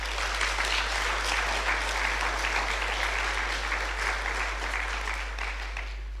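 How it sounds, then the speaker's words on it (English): Steady, dense applause from a graduation ceremony crowd at an upskilling academy, sustained and even for about six seconds before easing slightly at the end. "Please give yourself a big round of applause."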